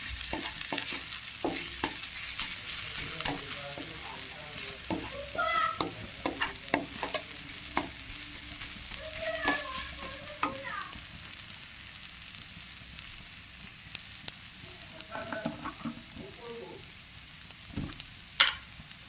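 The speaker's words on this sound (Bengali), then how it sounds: "এই যে শাক ভাজা হচ্ছে।" Leafy greens fry in a pan with a continuous low sizzle, broken by frequent scraping and stirring clatters of a spatula throughout, moderately close and without speech.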